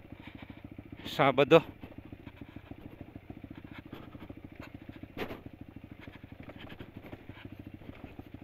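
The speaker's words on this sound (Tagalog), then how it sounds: "Uwian na yung mga naka-scooter doon." Scooters riding along a road in Zambales, a steady close engine putter running throughout with a brief louder burst of revving and clatter early on, and a short voice heard.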